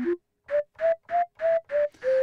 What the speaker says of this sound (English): We've got whistling.